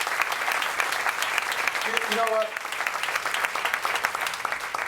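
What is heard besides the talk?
audience applause for Sonia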